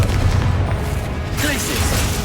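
Confringo fire spell explodes in Hogwarts Legacy gameplay, a dense booming blast with crackling debris sustained over two seconds, loud and close amid continuous game background.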